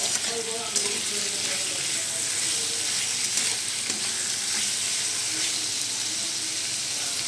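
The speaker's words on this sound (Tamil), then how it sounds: "ஒரு 2 மினிட்ஸ் நல்லா ஃப்ரை ஆகட்டும்" Tomatoes and carrots fry in a pan for a South Indian chutney made without coconut. A continuous close hissing sizzle runs the whole time with a few faint clicks and scrapes. Nobody speaks.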